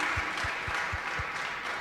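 An audience at a gala claps steadily, a dense wash of hands with a few sharper beats running through it, loud and close.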